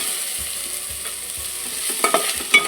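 Chopped tomato fries in a pan with ginger, a soft sizzle with low scraping stirs, then a few brighter clinks of the spoon near the end.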